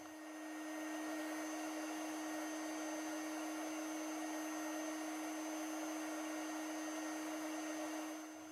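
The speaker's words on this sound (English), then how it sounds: "Then use the heat gun to melt the connector." A heat gun blows steadily while melting a wire connector during a Whirlpool side-by-side refrigerator ice maker wire repair, a continuous whooshing hum with a steady tonal whine, close and alone for the whole stretch.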